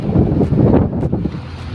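Strong wind buffets a boat out on the sea, a steady loud rumble of gusts against the microphone with water sloshing beneath, continuous and close with no voices.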